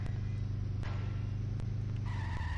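Simpsons Hit & Run car driving in the game, a loud steady engine drone with sharp impact clicks and a rising tire squeal near the end as the car skids.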